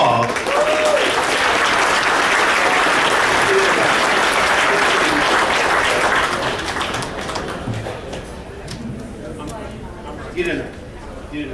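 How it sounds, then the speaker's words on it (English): Banquet audience at a track awards dinner applauding loudly and steadily for about six seconds, then the clapping thins out and fades into scattered claps and murmuring crowd noise. "Let's give them a round of applause."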